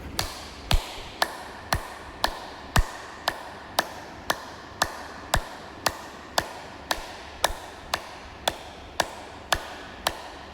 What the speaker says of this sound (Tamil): இப்படி இந்த 2 கைகளையும் இப்படி சேர்த்து தட்டுங்க.